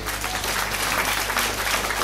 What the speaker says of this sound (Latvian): Aplaus viņai!